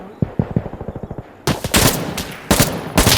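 Rapid bursts of light machine gun fire in the shooter game Insurgency: Sandstorm, first a quicker, lighter string of shots, then heavier, louder sustained automatic fire that dominates the mix.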